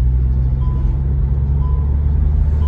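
An MG Hector facelift 2023 diesel SUV drones in fifth gear under full throttle, a steady low engine rumble heard from inside the cabin with no break in the tone.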